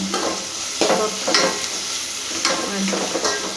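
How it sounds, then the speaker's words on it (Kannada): Beans frying in oil in a pan with a dense, continuous sizzle and rhythmic scraping stirs, close and loud with no talk. "ಹುಳ್ಳಿಕಾಯಿ ಎಣ್ಣೆಲಿ ಫ್ರೈ ಆದಮೇಲೆ"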